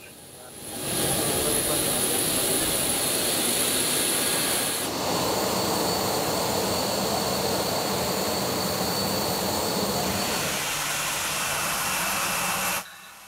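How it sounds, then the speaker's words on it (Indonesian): A presidential jet aircraft takes off from Halim Perdana Kusuma airport, a loud continuous jet roar that starts abruptly, shifts in tone midway, and cuts off near the end. "Prabowo berangkat dari Bandara Halim Perdana Kusuma pada Sabtu petang dengan menggunakan pesawat kepresidenan."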